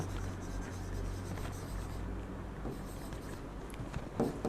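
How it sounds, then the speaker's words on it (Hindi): Chalk or marker scratches softly across a classroom board in short strokes, faint and steady under a low room hum. "यहाँ पे लिख देती हूँ मैं"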